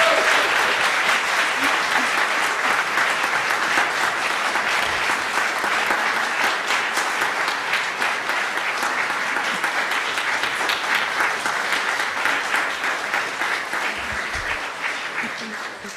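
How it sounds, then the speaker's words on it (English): A congregation at a Sunday service breaks into sustained, dense applause that fills the room at even loudness for the whole stretch and tapers slightly at the end. "I think we need another cheer for these people"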